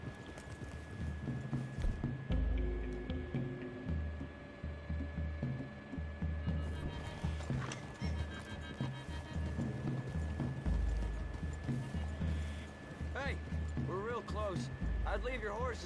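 Horse hooves clip-clop steadily at a walk through trees in Red Dead Redemption 2, close and continuous, with voices talking over the hoofbeats.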